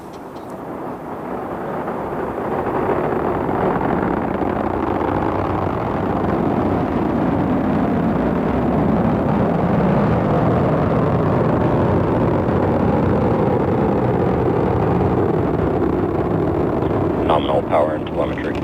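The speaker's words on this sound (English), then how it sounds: "Falcon 9 has successfully lifted off from historic Launch Complex 39A in Florida" A SpaceX Falcon 9 rocket lifts off from Launch Complex 39A at Kennedy Space Center, Florida, on NASA's CRS-29 mission. A deep, broad roar swells and holds steady for the whole stretch, with a voice talking over it.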